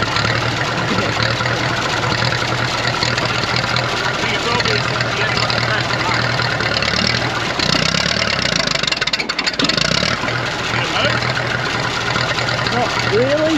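A Deutz tractor engine idles steadily on an Australian farm, a continuous low mechanical drone running throughout, with people talking over it.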